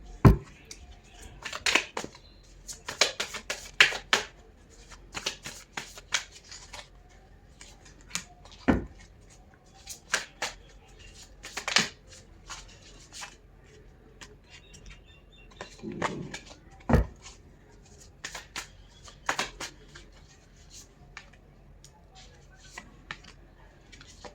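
Tarot cards being shuffled and drawn during a Hindi tarot reading, with scattered crisp card snaps, slides and flicks in irregular bursts, fairly close and moderately quiet, with occasional soft speech between.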